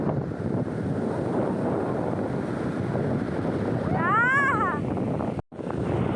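Big sea waves roll in at Puri beach during a new-moon high tide, a continuous broad surf roar mixed with heavy wind buffeting and a brief whistle-like tone near the end.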